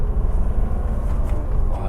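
A BMW E36 M3 on the road, its engine giving a rough, rasping low exhaust drone that rumbles steadily and up close throughout, with no talking over it.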